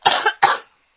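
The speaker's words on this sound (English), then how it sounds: "Man, you got an ugly cough" Two rough, hacking coughs in quick succession, close by, then silence.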